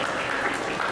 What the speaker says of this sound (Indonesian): Tepuk tangan untuk para penanya.